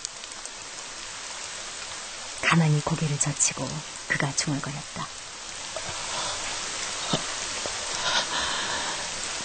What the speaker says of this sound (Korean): 저 먼 곳에서 빗방울들이 떨어지고 있었다